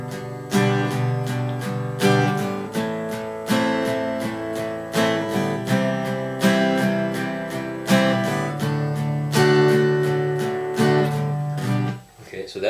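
An acoustic guitar strums the chords of a song using only downstrokes, in a steady, loud, even rhythm of ringing chords with no voice over them.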